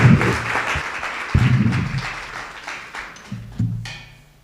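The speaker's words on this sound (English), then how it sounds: "Then the crowd goes wild." An audience applauds at a Board of Education meeting, a dense burst of clapping that swells and fades in waves over a few seconds, with a few voices mixed in underneath.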